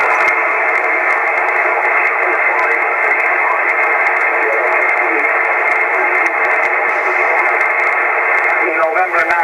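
A ham radio transmission heard while listening for a Slovenian station, band-limited and hissy, with faint garbled speech buried in steady static throughout.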